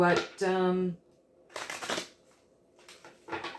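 Tarot cards riffle and slide in short bursts between stretches of a person talking nearby.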